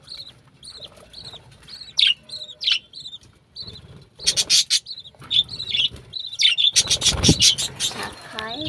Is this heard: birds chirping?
yes